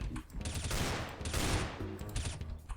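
M4 rifle fire in CS:GO during an upside-down challenge: close, loud bursts of rapid automatic shots, two or three sustained volleys with short gaps between them.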